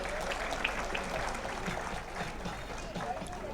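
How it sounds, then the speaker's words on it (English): A large audience at a charitable trust's 25th anniversary event in Auckland gives a steady, dense round of applause that fills the hall from start to finish, with a faint voice blended in. "Let's put a huge round of applause for Gigi and his amazing service to the community."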